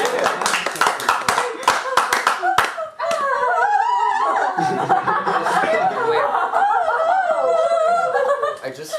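An audience claps in a dense, loud burst for about three seconds, then the clapping gives way to talk and chuckling laughter that runs through the rest.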